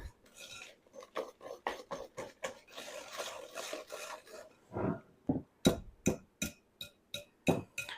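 Eggs, oil and sugar whisked in a bowl: rapid scraping and clinking strokes against the bowl, close and rhythmic, then a few slower, sharper taps and scrapes.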